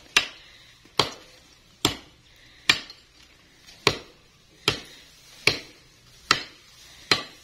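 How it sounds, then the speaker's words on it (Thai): A sharp knife chops into a tree with sharp, evenly spaced strikes, about one per second, each hit ringing briefly before the next. "พี่มอสก็เลยต้องตัดออกมีดก็คมดีนะมีดนั่น"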